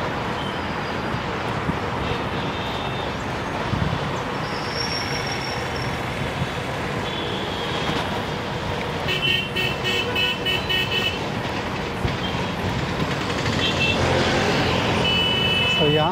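Road traffic stands stopped near a bridge, a dense wash of engine noise with scattered car horns sounding near and far, heard from a bicycle in the queue.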